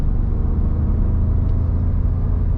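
A Ford F-150 Tremor pickup pulls away on the road, its engine a deep, steady low rumble heard from inside the cab, without any talk.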